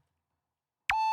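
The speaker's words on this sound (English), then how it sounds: "without the distortion, it just sounds like a normal sine wave" A plain synthesizer sine-wave bass tone for a future riddim track, undistorted and free of effects, entering after near silence with a brief attack, then holding steady and loud to the end.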